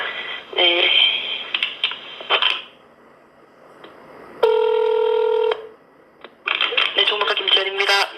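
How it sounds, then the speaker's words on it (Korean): A telephone call being placed: a burst of rapid keypad dialing tones, then a single steady ringback tone, then another run of dialing-like beeps, with speech around the call. "일단 이 번호로 전화 드리겠습니다."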